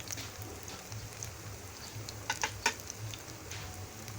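Chappal kebabs fry in hot ghee in a pan, giving a steady soft sizzle with a few sharper crackling pops near the middle, close and moderately quiet with no talk.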